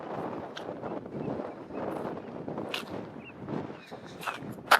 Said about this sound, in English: So the wind picked up quite a bit when I came up here near the top of the hill